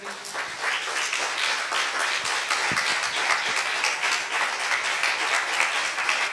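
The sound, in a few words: congregation clapping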